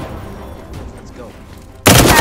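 A sudden loud burst of gunfire in the video game Firewall Zero Hour erupts after a quieter stretch of background noise and continues dense to the end.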